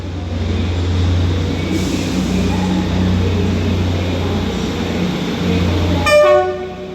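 A rumbling train idles nearby at Stoke-on-Trent station, then a short two-tone horn sounds loudly near the end before fading.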